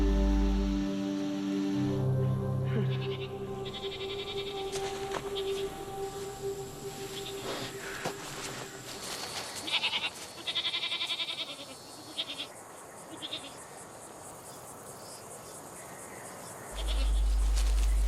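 Goat bleating in a few short calls amid layered background noise and rain-like hiss, with other ambient sounds heard throughout.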